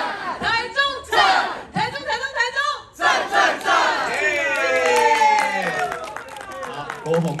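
A crowd at a Taichung movie screening Q&A roars back in a loud call-and-response chant, with a speaker leading the call, followed by swelling cheers and scattered clapping.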